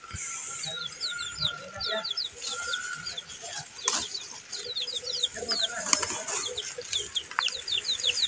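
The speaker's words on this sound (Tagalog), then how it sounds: "Ayun yung sisiw ko tumakbo. Galing dito sa loob." Baby chicks peep repeatedly in a backyard vegetable garden, with high, downward-sliding chirps coming in quick bursts over steady outdoor background noise and a few sharp knocks.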